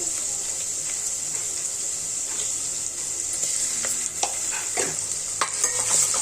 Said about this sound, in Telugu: ఇప్పుడు అల్లం వెల్లుల్లి పేస్ట్ వేసుకోవాలండి ఒక టూ టూ టేబుల్ స్పూన్ వేసుకోవాలి